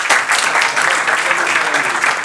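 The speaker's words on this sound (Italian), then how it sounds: "un applauso lo faccio io." Dense, loud audience applause at a presentation, close and continuous clapping for the full stretch before cutting off abruptly.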